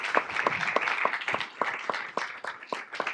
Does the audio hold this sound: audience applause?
yes